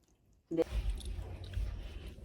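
Fresh homemade desi butter being chewed close up, with soft, wet squishing mouth sounds starting after a brief quiet moment and continuing steadily.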